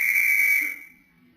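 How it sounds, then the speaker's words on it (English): A policeman's whistle, used as a radio comedy sound effect, gives one sustained shrill blast that fades out after about a second. "that policeman whistled at you."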